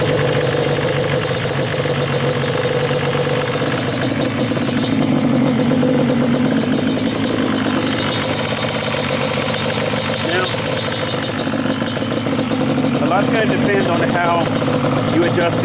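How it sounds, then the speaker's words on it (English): A stock Yamaha Banshee ATV engine fires up and settles into a steady, loud, buzzing idle during carburetor tuning, running continuously close by. "Now we can go ahead and fire it up to do the final tune on it."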